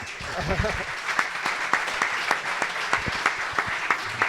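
Scattered clapping from a small audience with distinct individual claps, and a brief voice near the start.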